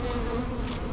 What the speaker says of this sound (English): so we have this nice lump of bees over here